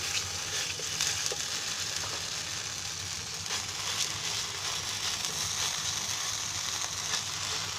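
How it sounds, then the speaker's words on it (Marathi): Sabudana thalipeeth dough patted onto an oiled griddle sizzles in a steady, even crackle of frying that runs continuously at moderate loudness with faint scraping underneath. "मी तव्यातच थापणार आहे"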